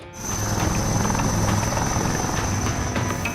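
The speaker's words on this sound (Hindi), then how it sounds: "इस रेस्क्यू ऑपरेशन को एडवांस लाइट हेलीकॉप्टर मार्क 3 की मदद से अंजाम दिया गया।" Advanced Light Helicopter Mark 3 flying a storm rescue operation, evacuating people from a boat, a loud steady rotor and engine roar throughout with a high turbine whine, no voices.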